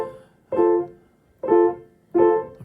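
Piano triad struck three separate times with its notes slightly rolled rather than together, each chord ringing briefly before the next, played alone.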